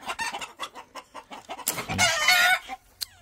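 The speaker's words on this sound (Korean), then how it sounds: "아메라카우나 블랙 아메라카우나라는 닭입니다." Black Ameraucana chickens on a weekend farm cluck in a loud, close series of short calls, with one longer squawking burst partway through and no talking.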